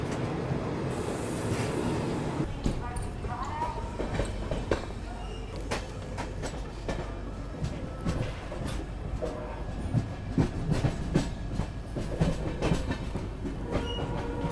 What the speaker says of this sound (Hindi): और यहाँ क्रॉसिंग हुई हमारी तपोवन एक्सप्रेस से।